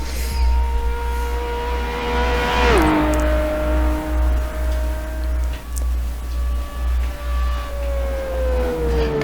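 Race car in Assetto Corsa at Monza 1966, exhaust burbling from side pipes as it downshifts: a steady engine drone drops sharply in pitch partway through, then holds a lower, even tone over a constant low rumble.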